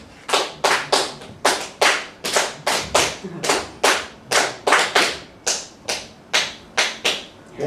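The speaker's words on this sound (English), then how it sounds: "That's a rumba clave." Sharp hand claps tap out a rumba clave pattern at a music masterclass, crisp isolated strikes grouped in repeating cycles of uneven spacing, close and clear with no talking.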